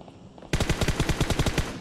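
Automatic gunfire in the mobile battle royale game PUBG Mobile, with rounds striking the ground: a sudden rapid burst of about a dozen evenly spaced, punchy shots, loud and close, with no one speaking.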